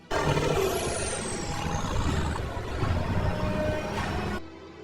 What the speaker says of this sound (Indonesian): Dragon dan Chris pergi menggunakan truk penyembur pasir yang dilengkapi mesin jet